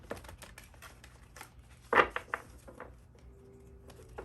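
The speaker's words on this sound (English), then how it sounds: "I'm going to shuffle the cards now." Tarot cards being shuffled by hand, a series of soft riffling flicks with one louder slap of the deck in the middle, close and otherwise quiet.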